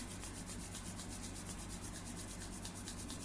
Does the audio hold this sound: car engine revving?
no